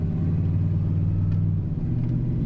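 A Jeep Grand Wagoneer, once seized after sitting for years, drives at around 50 mph with a steady low engine rumble from inside the cabin and a slight shift in tone as the transmission changes gear.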